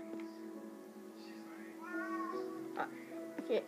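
A cat meows indoors, a run of several tonal, drawn-out cries close by at moderate volume, with a low steady hum underneath.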